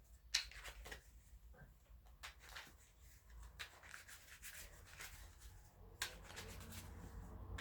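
A Tarot de Marseille deck being shuffled by hand: soft, quiet riffles and rubbing card slides, with a few sharper snaps, close and low in level and continuing throughout without any talking.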